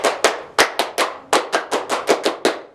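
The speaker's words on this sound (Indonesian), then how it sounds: "Kita bisa tepuk pramuka dulu" A group performs the Pramuka scout rhythmic clap at a scout anniversary celebration, a dozen sharp, close, unison hand claps in a patterned beat with short pauses between groups.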